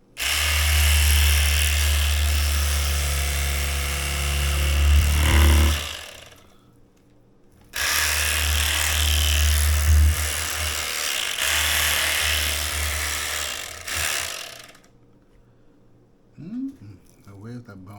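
A power saw cuts through pork shoulder butt in two loud sustained buzzing runs, each about five to seven seconds long, with a brief pause between them and a short quiet stretch after.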